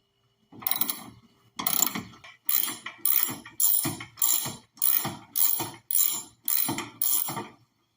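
Nuts being undone on an MGB side vent window with a ratchet, giving nine or ten evenly spaced bursts of close, crisp clicking, each lasting about half a second with short pauses between.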